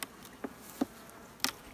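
Honey bees buzz around the frames of a nuc hive, a low steady drone with a few brief louder passes as individual bees fly close.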